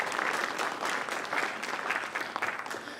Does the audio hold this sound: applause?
yes